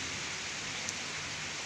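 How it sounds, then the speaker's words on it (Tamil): Rain falls steadily in Chennai as a continuous, even hiss of drops. It is moderately loud and heard alone, with no voices. "பாருங்கள் மழை வந்து பெஞ்சிக்கிட்டே தான் இருக்குது, மழை விட மாட்டேங்குது"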